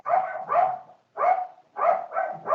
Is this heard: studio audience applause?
no